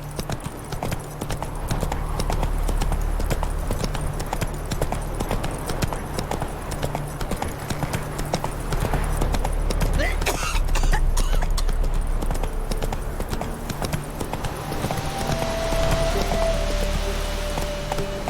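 Hooves of a galloping horse clip-clop in a rapid, steady rhythm through most of the stretch in The Witcher 3 video game, with ambient game sound and a brief higher effect near the end.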